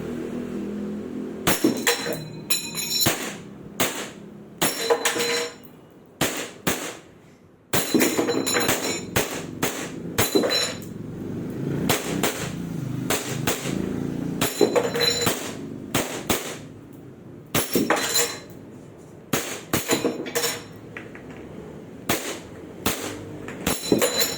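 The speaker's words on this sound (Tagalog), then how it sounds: "Army Armament R610-3 Clean Cut Battle Cut Test Fire" An Army Armament R610-3 airsoft pistol test firing, with rapid sharp cracking shots in bursts and irregular single pops, loud and close, continuing through the whole stretch with short gaps between strings.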